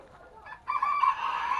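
A hen calls out in a short, rising squawk as chickens scatter and she takes flight, a single loud cackle close by after a quiet moment.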